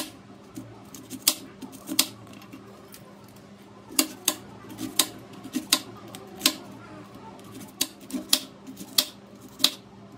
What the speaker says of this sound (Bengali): এইভাবে আমি সমস্ত উচ্ছেগুলো কিন্তু কেটে নেব